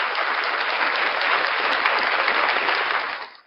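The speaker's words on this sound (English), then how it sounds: "Round of applause for First Amendment shenanigans." A full round of crowd applause, dense and sustained at a steady loudness, then tapering off quickly at the end.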